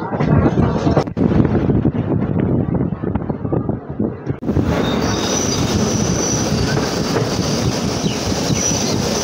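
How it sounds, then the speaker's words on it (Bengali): A train rumbles loudly and steadily on the tracks, wheels squealing and clattering as it rolls into Shantir Bazar station in South Tripura, India, with wind buffeting the microphone throughout. "ট্রেন ঢুকছে শান্তির বাজার।"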